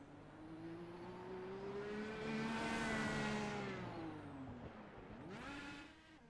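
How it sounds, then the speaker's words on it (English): An IndyCar in the iRacing video game revs through a victory burnout at Spa, its engine note rising and swelling, then dropping away before a second quick rev near the end, moderately loud with no talk. "doing the victory burnouts as your season champ going up in a cloud of black smoke"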